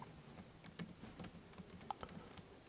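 Quiet typing on a computer keyboard, with irregular soft key clicks and short bursts of keystrokes separated by brief pauses, and no voices.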